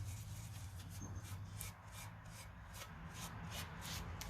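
Wax being rubbed onto a small wooden turkey figure to seal it, a soft repeated scratchy rubbing with rhythmic strokes, quiet and close with no talking.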